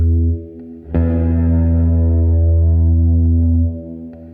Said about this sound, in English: When the pick goes away from the string, it doesn't land on the string underneath. That's a free stroke.